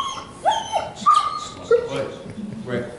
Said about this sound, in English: So he's called an aggressive indicating dog.